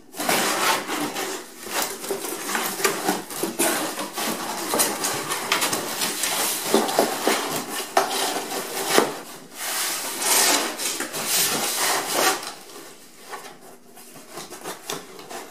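A cardboard shipping box is folded and bent by hand, giving close, irregular crinkling, scraping and creasing sounds with sharper cracks of the board flexing, continuous for several seconds and easing off near the end.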